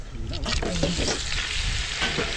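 Food sizzles steadily in a hot pan, a dense crackling hiss with some scraping and stirring and faint background sounds mixed in.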